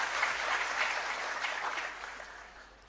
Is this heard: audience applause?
yes